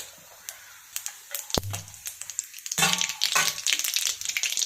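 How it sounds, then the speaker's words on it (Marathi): Mustard seeds and cumin hit hot oil in a pan, starting with a few sharp pops and clicks before breaking into a loud, crackling sizzle with spattering seeds, close and busy. "तेल तापले की याच्यामध्ये 1 टीस्पून मोहरी टाकून घेतलेली आहे, अर्धा टीस्पून जिरं"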